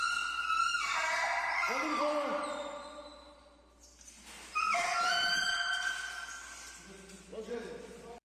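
A dog trapped in a pool whimpers and whines in high, drawn-out wavering cries, repeated several times, fairly close and loud against a steady background, as firefighters rescue it.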